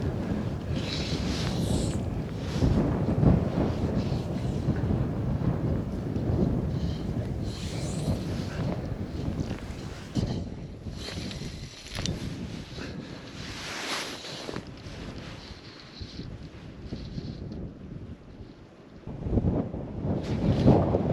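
Gusting wind buffets the microphone outdoors during winter fly fishing on the water, a steady rough roar with louder surges around the middle and end, no talking.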